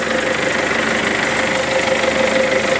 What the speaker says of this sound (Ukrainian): Це трактор в роботі